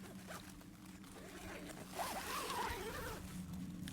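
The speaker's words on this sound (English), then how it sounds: "I'll just show you the zips now." YKK zips on a Tarptent Double Rainbow Li tent are drawn open in quiet surroundings, a faint rasping run of zipper teeth that rises and falls over a few seconds.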